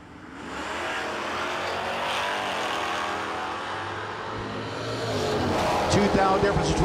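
A Dodge Dart and a Ford Mustang drag race car roar at a no-delay drag strip, a loud continuous engine wail holding steady then surging near the end, with a voice talking over it.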